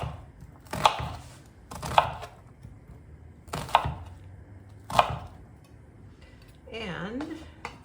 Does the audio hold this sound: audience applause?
no